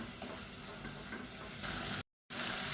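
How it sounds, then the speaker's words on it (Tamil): Onion paste sautéing in oil over a medium flame for biryani, a steady close sizzle with faint stirring that grows louder partway through, breaks off briefly, then resumes. "அடி பிடிக்காமல் நல்லா மீடியமான ஃப்ளேமில் வதக்கிக்கோங்க"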